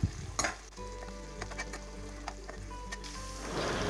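Chillies and onions frying in oil in a pan, a soft sizzle with scattered pops and a few stirring clicks, faint and close, with a steady electrical hum running underneath.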